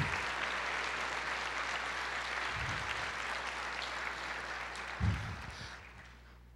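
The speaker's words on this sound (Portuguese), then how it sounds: "aplauda ao Senhor" A church congregation applauds steadily during an Easter service, a dense, even wash of clapping that holds for several seconds before tapering off near the end.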